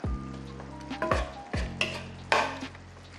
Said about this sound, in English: We just need to saute the sausage just a little bit